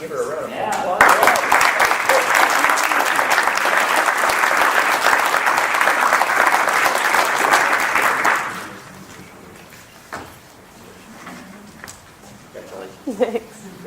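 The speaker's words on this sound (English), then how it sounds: "Can we give her a round of applause?" A crowd at a public meeting gives sustained, full applause for about seven seconds, then it dies away and a speaker begins talking.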